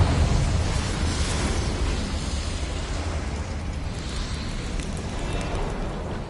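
A Confringo fire spell bursting in Hogwarts Legacy, heard as a loud, roaring blast that stays dense and rumbling throughout rather than ending in one sharp bang.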